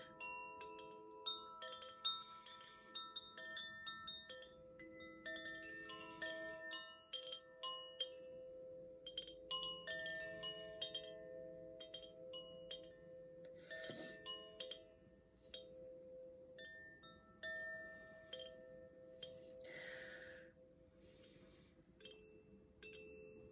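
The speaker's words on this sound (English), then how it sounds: "I'm also just going to go with our beautiful Gaia chimes" Gaia chimes ring in a slow, resonant sequence of bright metallic tones that overlap and decay over a soft background, with scattered louder strikes and no talking.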